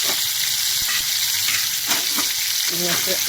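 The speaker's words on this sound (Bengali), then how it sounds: "তেলটা আমার হয়ে গেছে। চিংড়ি মাছটা ছেড়ে দিলাম" Shrimp drop into hot oil seasoned with black cumin seeds, setting off a loud, continuous crackling sizzle with occasional stirring scrapes throughout.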